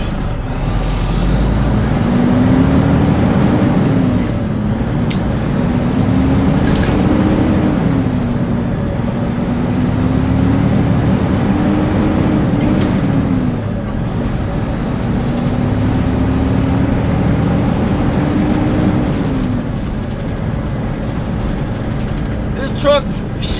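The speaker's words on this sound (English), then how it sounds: "Truck shifts a lot smoother than the Century class that I was in before this truck." A semi truck driven from the cab runs through its gears, the engine note climbing and dropping in repeated steps with each shift, steady and close, with a faint whine above and the rumble of the road underneath.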